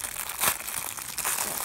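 Plastic packaging around a Fang Leone Beyblade toy crinkles as it is opened, a close, steady rustling and crackling with a few louder crunches.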